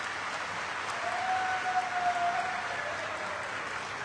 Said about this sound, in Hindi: तो मैं चाहूंगी एक बार आप मेरे पिताजी के लिए जोरदार तालियां बजा दें।